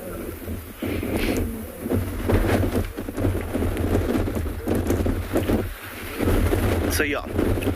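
Strong wind buffeting the microphone outdoors on a sunrise safari, loud rumbling gusts that rise and fall throughout, with a voice talking faintly beneath.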